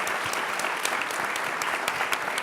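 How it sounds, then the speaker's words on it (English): Audience applause for a panel at the White House Prison Reform Summit, an even wash of many hands clapping that sounds somewhat distant and soft, with occasional sharper claps standing out. "give this panel a round of applause"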